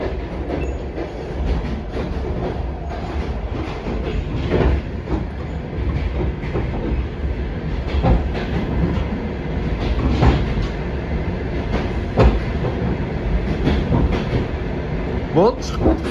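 Passenger train bound for Almaty heard from onboard, with a steady rolling rumble, rhythmic clickety-clack of wheels on rails and occasional squeals; voices talk faintly underneath.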